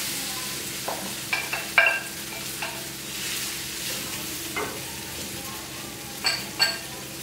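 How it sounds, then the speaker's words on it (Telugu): Cooked rice is stirred into a hot pan with moringa leaves, a low steady frying sizzle under occasional soft scrapes and clinks of a spoon against the pan, moderately close. "ఇప్పుడు మనం ఆల్రెడీ వండి పెట్టుకున్న రైస్ని ఇందులో వేసి కలిపేసేది."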